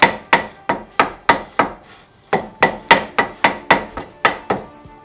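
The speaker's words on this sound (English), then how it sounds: "then we need to hammer with the mullet or something" Mallet strikes on a rear brake component of a Land Rover Discovery 3 (LR3) during a brake rebuild: about a dozen sharp, loud, close blows in a steady rhythm, with a brief pause partway through.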